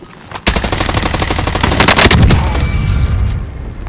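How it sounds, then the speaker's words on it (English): Hostile enemy gunfire in Call of Duty Warzone: a sudden loud barrage of rapid automatic shots bursting in, with booming impacts and a rumbling echo trailing off. "Enemy hostile fire."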